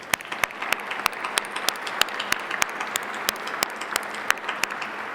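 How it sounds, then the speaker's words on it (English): Audience applause for sponsors at a scholarship awards celebration honoring Martin Luther King, a steady wash of clapping with sharp individual claps popping out, moderately loud and sustained throughout without talk. "So let's now give a round of applause to all of our sponsors."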